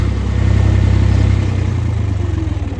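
A tractor with a broken clutch idles in neutral with its throttle turned down, a loud close low engine rumble that pulses steadily and grows slightly rougher toward the end.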